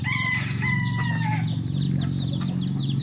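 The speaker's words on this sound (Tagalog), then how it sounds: "nandito ulit tayo sa ating munting kulungan ng ating mga manok" Free-range chickens in a small farm coop, a rooster crowing close by over steady clucking from the flock, the calls overlapping in quick succession.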